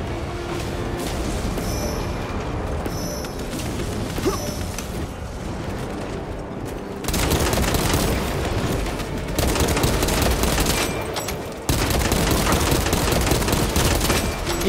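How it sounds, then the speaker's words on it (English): Sustained gunfire rattles through a Warhammer 40K Space Marine 2 battle, with dense bursts and fusillades that stay loud and close, growing heavier in the second half. "Okay, they're just shooting."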